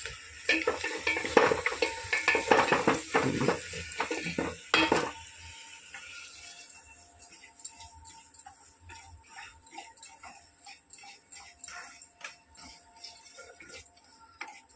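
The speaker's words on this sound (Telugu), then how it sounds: "రవ వేగిపోయింది ఫ్రెండ్స్." Rava (semolina) roasting in ghee in a pan, with loud scraping stirs and clatter at first, then a quieter steady crackle and ticking sizzle close by.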